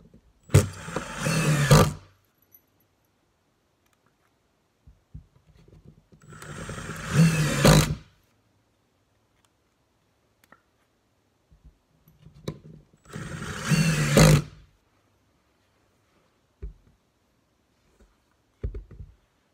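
A Milwaukee Fuel brushless power tool in a speed test, with three separate loud bursts of motor whine, each lasting about two seconds, separated by quiet pauses and a few faint clicks.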